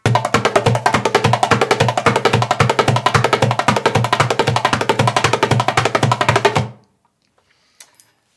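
Dumbek goblet drum played in fast split hand triplets using Turkish technique. A dense, rapid stream of close, loud strokes runs for nearly seven seconds, then cuts off into quiet with a couple of faint taps.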